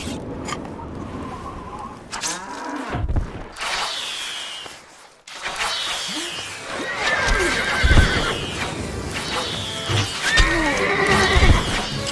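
Horses in the video game Stronghold Crusader whinny loudly several times over steady clip-clop hoofbeats, the neighs rising and falling close up with brief pauses between them.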